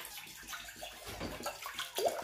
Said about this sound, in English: I'm gonna put in my drinkable water